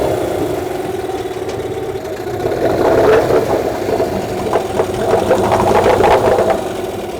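A Hangkai outboard boat motor idles nearby with a steady, loud mid-pitched drone and light knocking, holding an even rhythm throughout.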